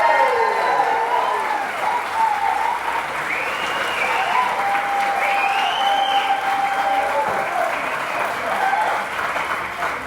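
Applause and cheering from a crowd of young and old at a ribbon cutting ceremony in Harrison, Arkansas, a steady, loud wash of clapping lasting the whole stretch with some whistles above it.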